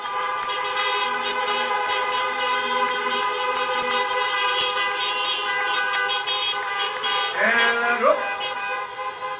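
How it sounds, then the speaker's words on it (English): Many car horns honking together at a drive-through graduation for 2020 seniors, a sustained chorus of overlapping toots with a brief announcer's voice partway through. "let's hear the beeps, let's hear the horns."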